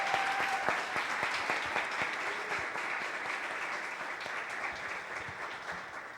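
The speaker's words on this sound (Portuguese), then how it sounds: "el aplauso más fuerte es para todos ustedes por estar aquí" An audience applauds at the closing of a conference, dense sustained clapping from a large crowd that stays even and gradually tapers slightly.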